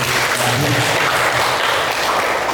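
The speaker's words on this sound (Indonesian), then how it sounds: "Coba beri aplaus dulu" Sustained applause from a classroom audience during a school teaching demonstration, dense and steady clapping that fills the whole stretch at close range.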